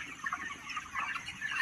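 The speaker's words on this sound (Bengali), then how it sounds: "মুরগি দেখো অনেকটাই বড় হয়ে গেছে" Several chickens cluck close by in a short burst of soft, overlapping calls, with no speech.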